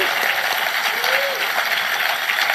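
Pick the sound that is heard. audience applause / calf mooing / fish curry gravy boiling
audience applause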